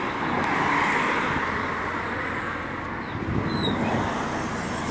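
Continuous roar of street traffic with a bus passing close by, a steady loud engine and road rumble with faint higher whines over it and no talk.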